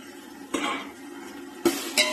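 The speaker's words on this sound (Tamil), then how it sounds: "பச்சை மிளகாய், இஞ்சி, பூண்டு, கொத்தமல்லி, புதினா இதை நம்ம அரைச்சி இப்போ வெங்காயம் வதங்கணும்னு சேர்த்து நல்லா வதக்குறோம்." Spatula stirring ground green chili, ginger, garlic, coriander and mint paste into frying onions in a pan for mutton seeraga samba biryani; a few distinct scraping clinks against the pan over a low background hiss, no talking.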